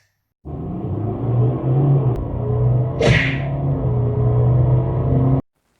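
Recorded car interior noise played through a speaker system at about 70 dB for a headphone noise-cancelling test, a steady low rumble with a brief whooshing swish near the middle, starting and stopping abruptly.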